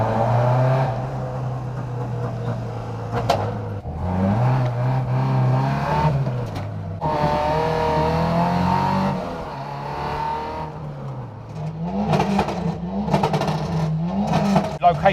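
A Ford Escort MK2's engine drones and revs as the car drives through an industrial estate at night, the pitch rising and falling through several throttle blips, with voices talking over parts of it.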